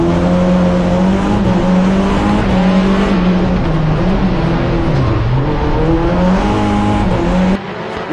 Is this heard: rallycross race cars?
yes